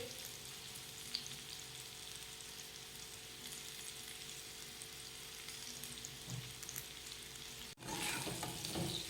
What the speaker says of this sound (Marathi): ह्या वड्या छान अशा परतून घेऊयात